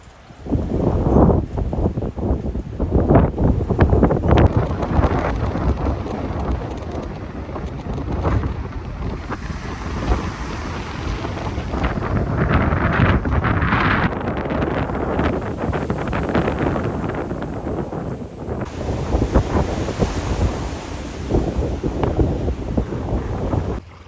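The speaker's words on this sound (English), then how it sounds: "So Diamond Bay was a bit too windy and the waves were too harsh" Strong wind roars across the microphone at Diamond Bay beside rough, harsh ocean waves, a loud continuous rushing noise with surging swells that runs throughout without any talking.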